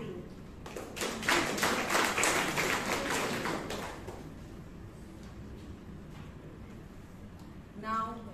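An audience applauds at a Toastmasters club meeting in Bangalore, a burst of dense clapping that swells, then tapers into a thinner patter and fades, with a voice at the very end.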